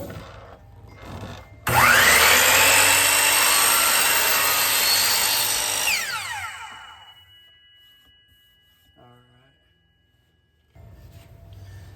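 A power saw squares and cuts a wood board: the blade spins up with a sudden loud whine, bites through the wood for several seconds, then winds down, with quieter workshop noises before and after.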